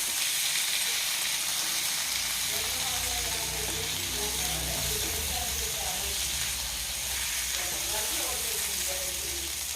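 Prawns are tossed through masala in a hot pan, giving a constant loud sizzle with faint scraping stir strokes underneath.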